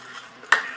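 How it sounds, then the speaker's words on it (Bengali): Paneer pakora batter being mixed with bread crumbs in a bowl, one brief scraping stroke of a spoon over a low background hum. "এর মধ্যে এবার আমি 1/4 কাপ ব্রেড ক্রাম্প অ্যাড করলাম, করে এটাকে মিশিয়ে নেব।"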